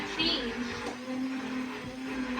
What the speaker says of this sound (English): I like to use an immersion blender until it's all nice and blended